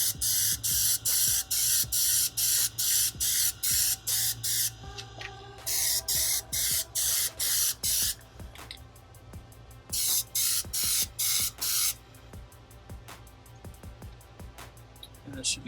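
Repeated bursts of aerosol spray as coats of plastic dip go onto covers, each hiss lasting about half a second in rapid runs, with short pauses between sets; loud and close, no talking.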